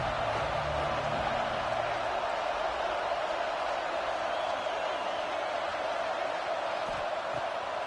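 Crowd noise in a college football video game during a third-down red zone play, a steady loud roar of cheering that holds without break.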